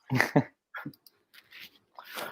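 A dog whimpers and whines in a few short, soft bursts with brief breathy pauses between them, close by and fairly quiet, with no talk over it.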